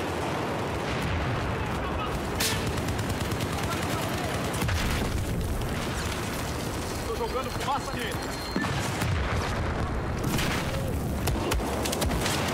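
Shooter video game gunfire, dense rapid shots and booming blasts rattling almost continuously, loud and close, with a player talking over it at times.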